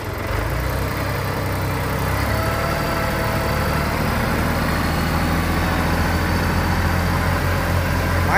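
A Yanmar YM1610 tractor engine runs steadily at high throttle, a loud, continuous diesel rumble and clatter close by that holds at a constant level for the whole stretch without any talking.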